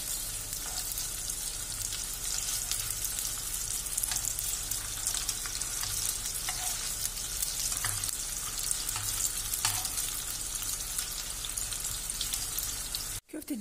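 İzmir meatballs fry in oil in a wide pot, giving a steady, close hiss and crackle of sizzling that runs unbroken before stopping abruptly at the end.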